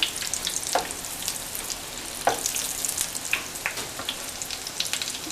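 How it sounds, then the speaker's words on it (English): Nargisi malai koftas fry in hot oil with a steady, close sizzle and occasional louder pops and spits. "as I fry, I'm going to take some oil"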